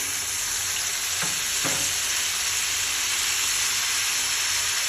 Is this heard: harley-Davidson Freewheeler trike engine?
no